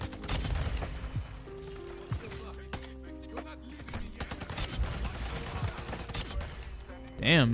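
Rapid gunfire from the video game Call of Duty Modern Warfare 2, with repeated close shots and bursts in quick succession over game sounds, followed by a rising electronic tone at the end.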